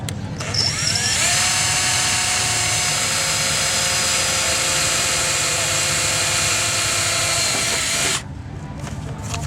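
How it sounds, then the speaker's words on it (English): A power drill bores holes through the lower bag filler panels of a Victory Cross motorcycle with a sharp bit, a steady high whine running continuously for about eight seconds before cutting off. "Now you can start drilling your holes."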